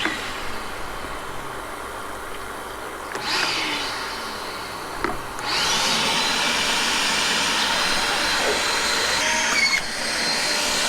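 A vacuum runs steadily to suck a pull string through a line while running solar power to RVs on an off-grid homestead, with a droning whoosh that briefly surges around three and five seconds, then settles into a louder continuous rush.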